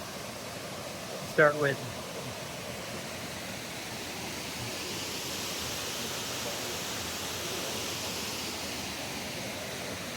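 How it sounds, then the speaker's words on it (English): Steady, even roar of falling water at High Shoals Falls near Hiawassee, Georgia, heard from a viewing platform, constant and fairly faint throughout, with a few brief spoken words early on. "A beautiful waterfall"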